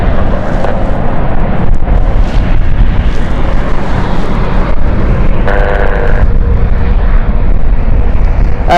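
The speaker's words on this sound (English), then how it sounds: "So this is the Rotterdam flight heading out right now." Jet airliner departing London City Airport on a flight to Rotterdam, a steady broadband roar of engines and rushing air that holds loud throughout, with a brief higher tonal whine rising partway through.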